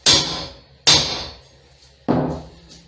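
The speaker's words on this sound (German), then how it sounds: "den Hammer mit der nicht balligen Oberfläche nehmen, damit es von die Kante ein bisschen weniger unscharf wird." A hammer strikes a large metal fitting three times, each a sharp, close impact with a short ringing decay. The blows come at uneven intervals.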